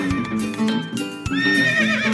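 A horse neighs loudly and clearly in a children's app, a long whinny that rises and wavers, with a few soft hoof clops at the start.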